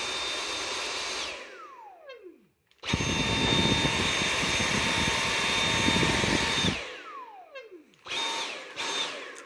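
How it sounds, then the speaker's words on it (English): A trigger-operated Dyson vacuum cleaner whirs up to a loud, high-pitched motor whine, winds down, then restarts with a harsher roar before spinning down again and giving a few short bursts, close to the microphone. "This is a vacuum cleaner. It's by Dyson."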